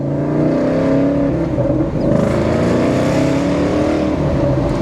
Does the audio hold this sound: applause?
no